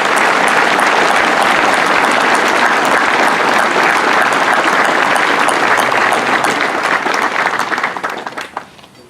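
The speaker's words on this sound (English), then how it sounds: "Please give them a round of applause." Sustained audience applause at a Memorial Day gathering honoring the fallen, steady and dense for about eight seconds before tapering off near the end, with no speech over it.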